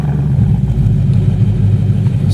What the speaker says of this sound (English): it sounds like an American V8. Tough muscle car.